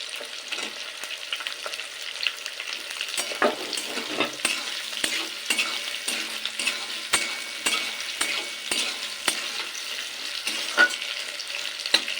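Onion petals stir-fried in a little oil in a pan for chilli chicken, giving a steady close sizzle broken by repeated spatula scrapes and taps, with no voices.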